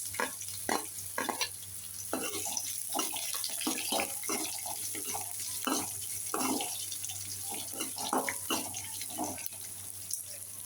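Medium-sized small and large onions fry in a pan for poori kilangu, giving a steady soft sizzle broken by frequent scraping, stirring clicks and spatula taps, close and fairly quiet.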